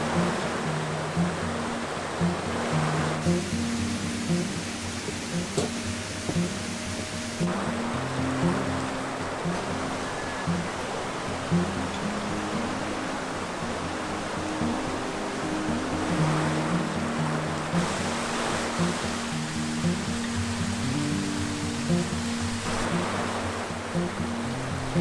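Waterfalls beside a trail near Cotopaxi in Ecuador, a steady broadband rush of falling water that keeps going for the whole stretch, fairly close and even in level, with no voices.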